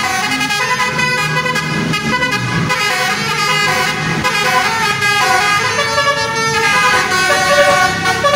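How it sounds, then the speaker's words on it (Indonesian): A loud MPM bus passes close by on an Indonesian road, sounding a melodic multi-tone horn over heavy engine and traffic noise, with the horn tune continuing throughout. "Next, kali ini ada bus MPM"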